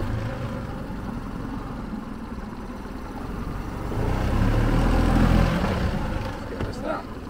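A Honda 20hp four-stroke outboard engine running in gear gives a steady low rumble that swells louder midway, with people talking over it.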